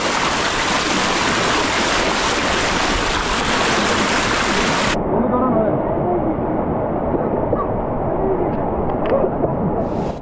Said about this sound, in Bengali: কখনো ঝিরির পানির প্রবল স্রোত